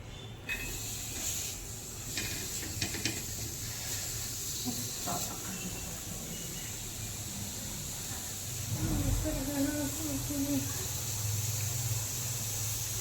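Chopped onion goes into a hot pan for a chicken gravy and sizzles with a steady hiss all the way through, swelling louder near the end, with someone talking over it.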